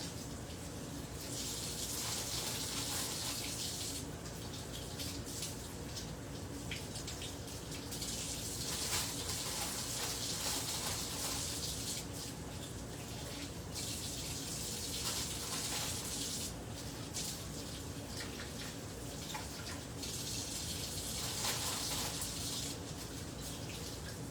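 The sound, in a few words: water from a tap rinsing mushrooms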